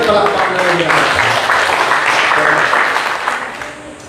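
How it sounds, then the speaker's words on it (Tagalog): An audience at an Ilocano sermon claps in steady, dense applause that holds for a few seconds and then fades toward the end. "At ito palakpak na rin yan."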